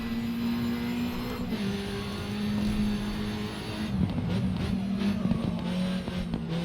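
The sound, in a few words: Peugeot 208 car racing up Pikes Peak in video game Grid 2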